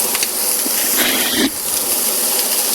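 Beef bacon steak cooks in a pan with a continuous airy sizzle and a louder surge of hiss for about half a second midway. No one speaks over it.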